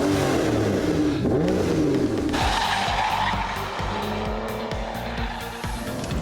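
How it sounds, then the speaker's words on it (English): An Aston Martin DBS V12 engine runs steadily and loudly up close, a deep continuous roar with a rising, revving tone partway through. "the sheer sound of that V12 warming up"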